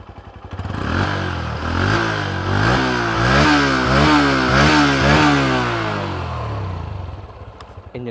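A Honda Hornet motorcycle engine fires up and settles into a throbbing, rhythmic exhaust note with a few revs, loud and close, then eases off toward the end with no talking over it.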